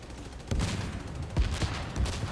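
Gunfire in a video game shooter, a few sharp shots scattered over a steady background of game noise and distant firing, fairly close and moderately loud.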